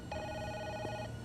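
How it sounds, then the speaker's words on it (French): A telephone rings once in a tense thriller film scene, a single bright electronic ring lasting about a second, fairly faint against a quiet background. "Va décrocher le téléphone. Décroche!"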